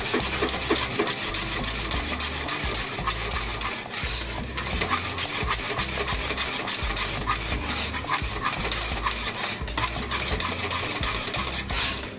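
Steady scraping and stirring as seasoned chicken is mixed with all-purpose seasoning and black pepper in a bowl, a continuous close rubbing sound with occasional utensil knocks.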